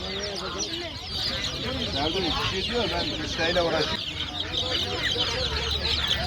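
Amrok chickens and roosters at a crowded poultry market in Adana cluck and call over one another, a loud dense flock sound under people talking nearby.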